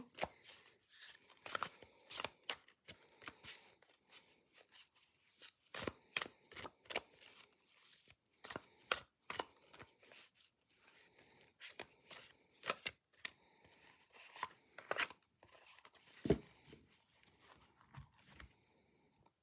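A tarot deck being shuffled by hand, a long run of crisp card riffles and snaps in uneven bursts with short pauses between, close and clear with no talking.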